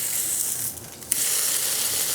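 Ham frying in a pan for a ham, egg and cheese sandwich gives a steady close sizzling hiss, broken briefly by a quieter dip where the slice is flipped, then a sharp clack and the full sizzle again.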